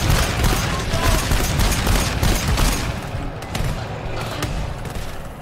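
Gunfire from a combat shotgun and other weapons fills a dense, loud firefight in the co-op shooter GTFO, with rapid overlapping shots and booms continuing throughout.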